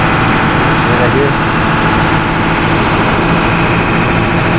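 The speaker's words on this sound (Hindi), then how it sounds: "इंजन एकदम बहुत बढ़िया चल रहा है, शानदार आवाज़ है।" An 82 kVA generator engine runs at a steady, loud, continuous drone with a heavy low rumble and constant hum, unchanging throughout.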